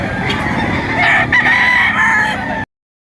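A 10-month-old Boston Roundhead gamefowl rooster at a poultry sale in Lipa, Batangas, lets out a loud, close, drawn-out crow that fills most of the moment before stopping abruptly.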